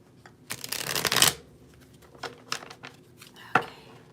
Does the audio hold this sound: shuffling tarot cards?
yes